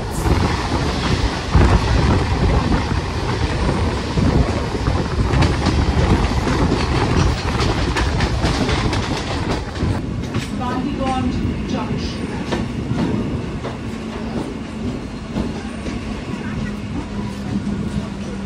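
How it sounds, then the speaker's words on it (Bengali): A Diamond Harbour local train pulls out of platform 17 at Sealdah station in Kolkata, a loud, steady rumble with rhythmic wheel clatter and faint voices in the background. "শিয়ালদা স্টেশনের ১৭ নম্বর প্ল্যাটফর্ম থেকে আমাদের আজকে ডায়মন্ড হারবার লোকাল ছেড়ে দিল।"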